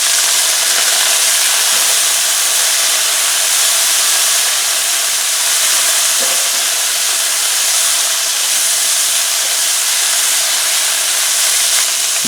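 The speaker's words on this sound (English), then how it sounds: "You should be able to see that the garlic bits are actually deep frying in the oil" Minced garlic deep frying in oil in a pan over low gas heat gives a steady, loud, unbroken sizzling hiss that holds evenly throughout, close up and with no voices.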